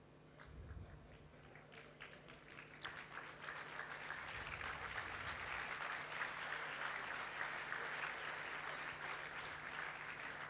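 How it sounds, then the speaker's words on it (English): An opening ceremony audience gives applause for young CEOs under forty standing in the hall, starting faint and scattered, then swelling into a fuller, steady clapping that stays at a moderate distance. "Indeed, they deserve an applause"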